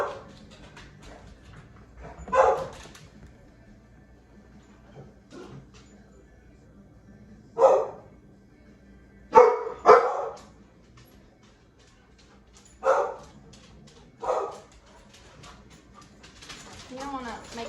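Puppies barking in short separate bursts spread across the clip, some sharp yips and a couple of quick double barks, with quiet stretches between and soft whimpering near the end.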